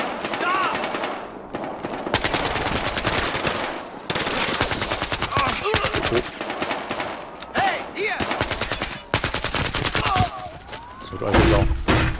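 Dense automatic gunfire in the shooter video game Battlefield Hardline, in long rapid bursts with brief gaps, loud and continuous, with sirens wailing and someone talking in German over the action.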